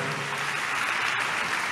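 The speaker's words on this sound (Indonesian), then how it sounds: "Tepuk tangan dulu yang paling meriah buat Tuhan." A church congregation claps during a sermon, a brief steady patter of many hands at moderate volume with no voices over it.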